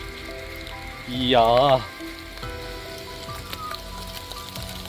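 Light rain falls in a deep forest in Laos, a soft, steady patter that continues throughout, with a brief voice rising over it near the start.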